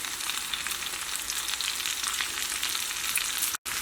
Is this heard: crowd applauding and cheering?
no